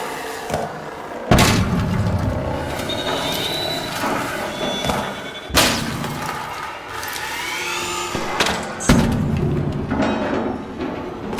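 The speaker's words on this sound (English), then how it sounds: "Seeker grenades. They help me get out of tough situations." Several grenade blasts from seeker grenades in the video game Arc Raiders thud out at irregular intervals, each a sharp broadband boom fading into a busy backdrop of game noise and mechanical clatter.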